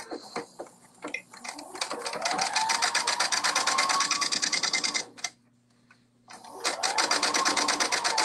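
A sewing machine stitches the short end of a kimono band with a 5/8-inch seam, running in a fast, even mechanical chatter close by. It pauses about a second, then starts again at the same rapid pace.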